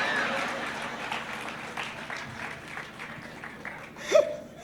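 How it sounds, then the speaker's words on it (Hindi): An audience at a Hindi comic poetry show applauds, a moderate, scattered clapping with some laughter that softens over a few seconds before a brief vocal outburst near the end. "एक बार आओ तालियां बजाइए"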